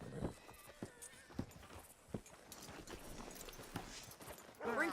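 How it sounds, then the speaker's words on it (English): Horse hooves clop in Red Dead Redemption 2, a series of distinct, fairly faint hoof strikes at an uneven walking rhythm against quiet background ambience. "Hitch your horse up here."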